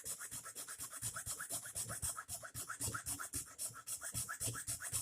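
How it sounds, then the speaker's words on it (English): A hand file rasps back and forth on the magwell flare of a Crosman DPMS airgun, producing a steady run of quick, even strokes heard up close and alone. "I'm just going to use my file because it's just easiest"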